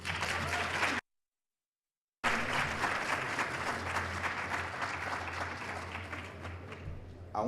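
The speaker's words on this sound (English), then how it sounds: "Please let's get a round of applause." Audience applause fills a hall after an evening event, a dense steady clatter of many hands that briefly drops out to silence about a second in, then resumes and holds strongly to the end.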